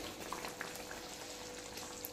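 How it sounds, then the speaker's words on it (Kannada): Stuffed okra curry simmering in a pot comes to a boil, giving a steady soft bubbling and fizzing that runs evenly throughout, close and fairly quiet with no talking. "ಇದು ಒಂದೇ ಒಂದು ಕುದಿ ಬರಬೇಕು ನೋಡಿರಿ, ಜಾಸ್ತಿ ಕುದಿಸ್ಬಾರ್ದು."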